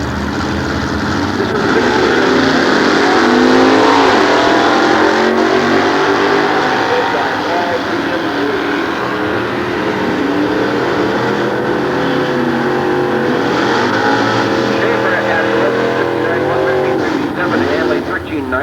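Nostalgia drag cars launch at Sears Point, including a Chevelle with a 400-inch small block, their engines roaring loud and sustained with revving sweeps throughout, while an announcer talks over the din.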